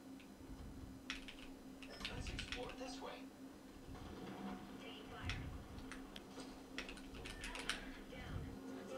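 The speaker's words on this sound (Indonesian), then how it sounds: "Dan biasanya keyboard mechanical tuh suaranya lebih berisik." Clicky keystrokes tap in irregular bursts over a low background hum, fairly faint and close.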